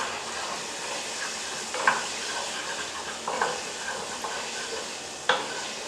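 Tofu stir-fries in a pan with sesame seeds, a soft continuous sizzle broken by a few sharp clinks and scrapes of a utensil against the pan.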